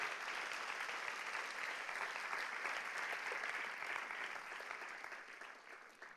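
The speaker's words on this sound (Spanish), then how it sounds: "Dele otro aplauso al Mesías." A church congregation applauding the Messiah during a Spanish-language sermon, a dense, steady wash of clapping from many hands that holds loud throughout and tapers slightly toward the end.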